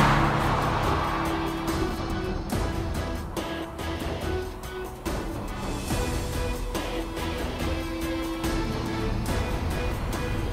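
An Audi S5 sports coupe's engine heard from inside while driving, a strong steady rumble that rises and falls with the throttle, dotted with clicks and road noise, and no talking.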